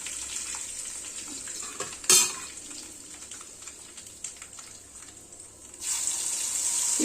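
Curry leaves dropped into hot oil for a tempering crackle in a steady sizzle, with a sharp burst of spitting when they hit the oil and a louder frying rush near the end.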